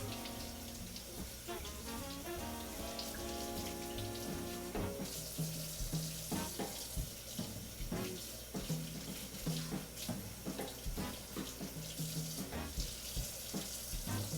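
Grated potatoes are rinsed under a running kitchen tap, with water splashing steadily over them in a sink and small knocks and clatter mixed in. It stays fairly quiet and close, and no one speaks.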